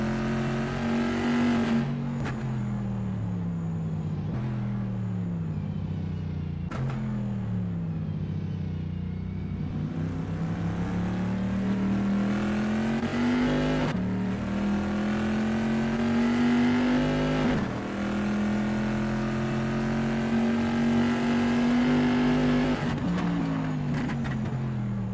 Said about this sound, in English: The ACL GTC Bizzarini GT 5300 Casa is indeed a sweet-ass looking ride.